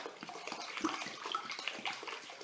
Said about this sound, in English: So I'm just putting in a load of water.